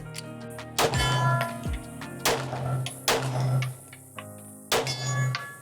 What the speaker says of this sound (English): missed the first shot on each of the steel plates, so trying to make an adjustment